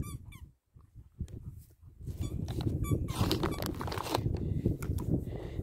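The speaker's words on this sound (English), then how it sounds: "Mandy's got a squeaky one." A squeaky dog toy squeaks repeatedly in short high bursts during play with German Shepherds and a Husky, with pattering paws and outdoor bustle around it.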